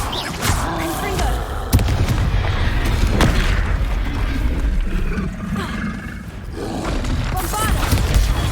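Confringo blasting spell going off in Hogwarts Legacy: loud booming explosions with roaring, crackling bursts, several impacts across a dense, busy combat din, with voices mixed in.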